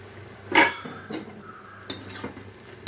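A pressure cooker pot of gongura sambar is opened with a few sharp metallic clanks of lid and vessel, separated by quiet pauses, close and fairly soft.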